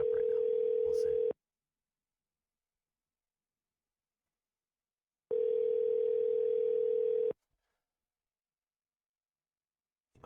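A phone ringback tone while waiting for a call to be answered: two long, steady electronic tones separated by several seconds of silence, clear and fairly quiet.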